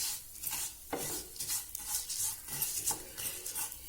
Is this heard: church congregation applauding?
no